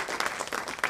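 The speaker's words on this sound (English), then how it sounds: "Big round of applause to all our sponsors and partners" A crowd applauds steadily, a dense wash of many hands clapping together at moderate volume with no voices standing out.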